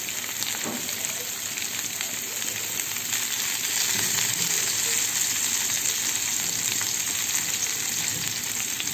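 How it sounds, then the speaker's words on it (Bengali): Pointed gourd (potol) frying in a pan with salt and turmeric, a steady close sizzle with faint stirring clinks, no talking. "নুন আর হলুদ দিয়ে পটলগুলোকে ফ্রাই করে নেব।"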